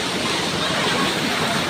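Steady, loud roar of rushing water from the Kalakadu waterfall, a continuous broadband wash heard up close with no pauses.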